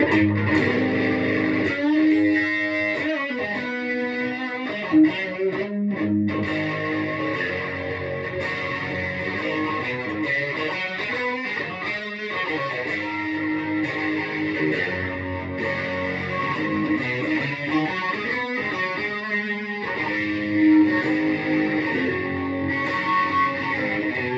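Electric guitar played through an MXR Distortion Plus pedal used as a boost, giving a steady distorted tone of chords and single-note riffs that rings continuously with no voices.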